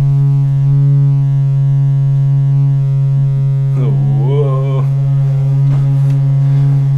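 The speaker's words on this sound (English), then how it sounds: "Doesn't really sound like a sine wave. It's got a bit of buzz to it." A steady, buzzy electronic tone from a Serge modular analog synthesizer's sine-wave oscillator hums continuously, with a brief wavering pitch sweep partway through; no voices.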